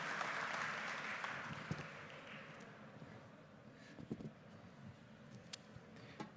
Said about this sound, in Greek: Ένα χειροκρότημα για την συνεισφορά